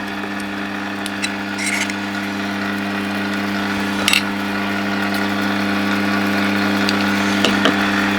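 A steady mechanical drone of a drill boring out the metal air tube of a Daisy Red Ryder Model 1938B air rifle, continuous and close, with a few sharp clicks and scrapes along the way.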